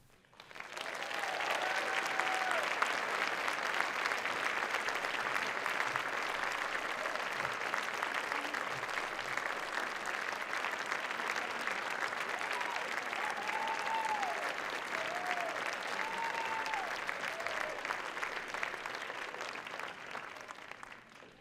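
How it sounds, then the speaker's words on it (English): A large audience at a Martin Luther King Jr. birthday celebration applauds steadily for about twenty seconds, a dense, even roar of clapping with a few voices calling out above it. "Can we give another round of applause for Derek Kilmer, please?"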